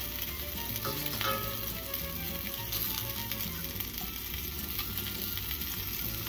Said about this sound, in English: Just want to get a nice good old little, sear on them.